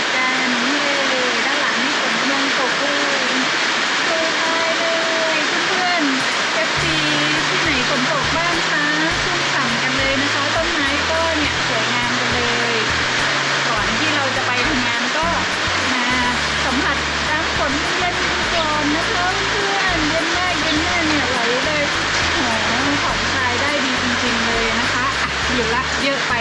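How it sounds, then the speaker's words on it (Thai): Rain falls as a constant, dense hiss, with someone talking over it and low thumping underneath. "เพื่อนเราก็เอาบรรยากาศฝนตกมาฝาก"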